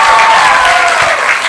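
Loud, sustained applause from the audience at Gretsa University's 16th graduation ceremony, a dense continuous clapping that fills the whole stretch without pause.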